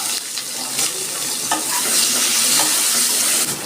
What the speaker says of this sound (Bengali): এবার আমি আলুটা একটু বেজে নেব